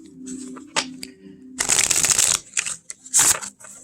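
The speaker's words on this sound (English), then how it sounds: "Just get this shuffled up a little bit more" Tarot cards being shuffled by hand, several short crisp riffling bursts close to the listener, separated by brief pauses and small taps as the deck is squared.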